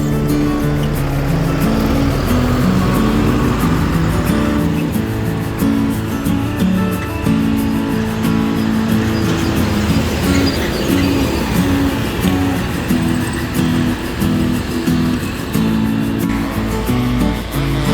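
A Sinar Jaya bus pulls out of the Comal Pemalang wholesale sub-terminal at night, its engine rumbling loud and continuous with road and crowd noise throughout.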